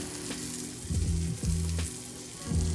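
Cashews sizzle and fry in a hot pan, a constant crackling hiss near the mic with a few louder stirring scrapes.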